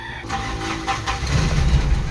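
A Mitsubishi 4P10 fully electronic engine with a faulty RPM gauge starts up and swells into a louder, deep rumble as it revs, heard up close.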